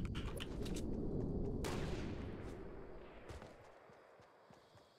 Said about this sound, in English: Shots down here.